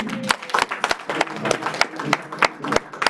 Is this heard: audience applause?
yes